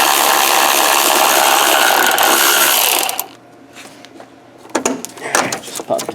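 Retaining clips are popped off a car radiator during a radiator replacement, with loud dense scraping and rattling for three seconds, then a quieter pause and a few sharp plastic snaps and clicks.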